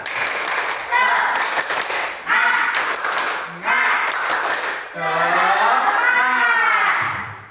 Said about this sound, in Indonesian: yuk kita tepuk semangat terlebih dahulu ya anak-anak ya